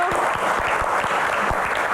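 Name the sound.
audience applause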